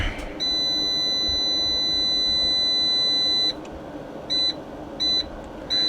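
A battery charger gives a steady electronic beep tone for a few seconds, then repeats as short evenly spaced beeps over a low background hum.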